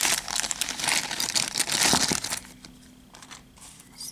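A plastic bag crinkles loudly up close for about two seconds, then the rustling drops to faint, sparse handling noises.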